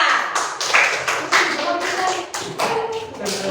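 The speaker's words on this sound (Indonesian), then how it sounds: "kita beri tepuk tangan yang meriah untuk kelompok logika." Students in a junior high school classroom clap for a presenting group, lively irregular bursts of hand claps close to the microphone, bunched into uneven rhythmic waves.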